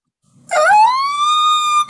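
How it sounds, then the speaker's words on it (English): A fire truck siren wails loudly and steadily close by, a single rising then sustained tone lasting under two seconds, with no voices over it. "watching as a fire truck speeds by, sirens blaring"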